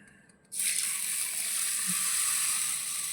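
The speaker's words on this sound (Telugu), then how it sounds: "ఇందులో వాటర్ పోసేసుకో" Water pours steadily into a bowl of mung beans and fenugreek seeds, a sudden rushing stream starting after a brief quiet moment and continuing evenly, close and fairly loud.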